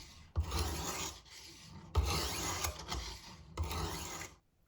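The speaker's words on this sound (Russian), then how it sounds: "первый будет камень с зернистостью 120. Смачиваю его водой и начинаю вот таким вот образом водить им по лезвию." A kitchen knife blade scrapes along a wet 120-grit whetstone in three long rasping strokes, each a close, gritty rub separated by brief pauses.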